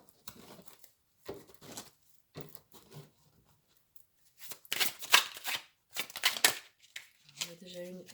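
Tarot des Enchanteurs cards being shuffled by hand in short, separate riffling bursts with quiet pauses between, the longest flurry near the middle, closing with someone speaking.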